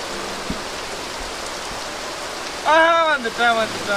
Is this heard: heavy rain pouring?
yes